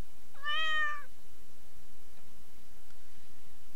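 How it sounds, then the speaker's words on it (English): A cat in the Stardew Valley video game gives one clear, bright meow lasting about half a second, followed by quiet background with faint ticks. "Well, little Suchi, you better be a good kitty now."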